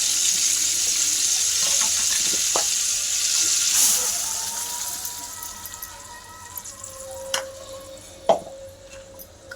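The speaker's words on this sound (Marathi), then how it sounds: "आता आपण मसाला तळून घेऊ." Onion, tomato and chilli masala paste frying in a pan, a steady hiss of sizzling with a few faint clinks and taps toward the end, close and alone without talk.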